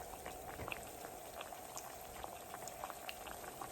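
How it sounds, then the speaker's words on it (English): A steady, quiet sizzle and crackle of plantain slices frying in hot oil, with small pops scattered throughout and no talking. "Add your plantain to your hot oil"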